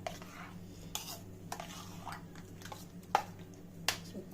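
Raita with chopped coriander leaves being mixed in a bowl, with soft stirring and several sharp spoon clinks against the dish, close but quiet, with no talking.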